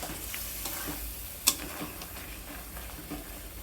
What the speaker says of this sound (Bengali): তিন চার মিনিট কষিয়ে নেওয়ার পরে এখন দিয়ে দেবো চিংড়ি মাছ গলদা চিংড়ি